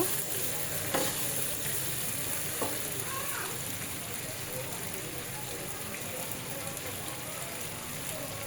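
Hilsa fish and green banana frying in oil, a steady soft sizzle with occasional stirring scrapes, fairly quiet and continuous with no talk.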